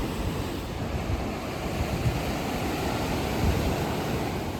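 Ocean waves surge and wash steadily, with a broad rushing roar and some wind noise. There are no voices.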